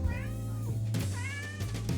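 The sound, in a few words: cat meowing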